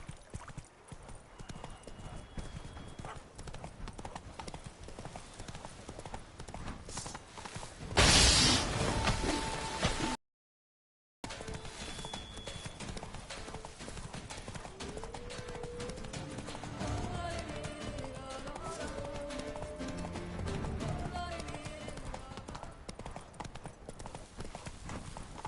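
Hooves of Roach, Geralt's horse in The Witcher 3, clip-clop steadily and closely throughout, broken by a loud burst and a brief silent gap, with soft music-like tones drifting underneath.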